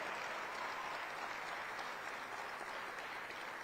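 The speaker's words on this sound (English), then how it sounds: "let's give our 311 new system a round of applause" Sustained audience applause fills a civic hall during a city's State of the City address, dense and steady throughout with no pauses.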